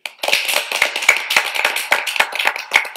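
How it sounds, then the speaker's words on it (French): Studio audience applauding guests on a French television talk show: a steady patter of many hands clapping at once, bright and continuous for a few seconds, with no talk over it. "Applaudissements pour tous mes invités."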